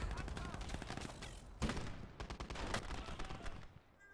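Machine gun fire rattles through a Gates of Hell battle on a hardcore Germany campaign day, steady bursts of rapid shots with one sharper crack midway, layered beneath a player's talk and fading slightly toward the end.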